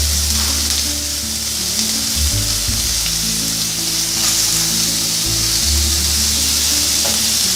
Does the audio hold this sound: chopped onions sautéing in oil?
yes